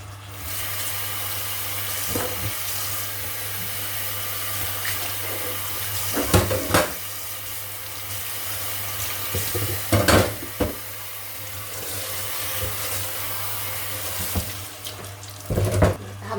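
Tap water runs steadily into a sink while cooking utensils clink and clatter now and then, with a low hum underneath.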